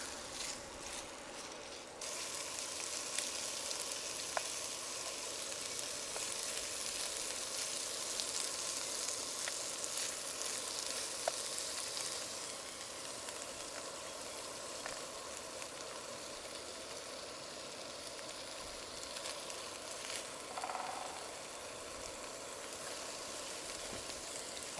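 Chorizo pork sausage with paprika and cooked beef sizzle steadily in a pan over a camp stove in the woods, a dense continuous hiss with a few faint clinks of stirring, close and quiet with no voices.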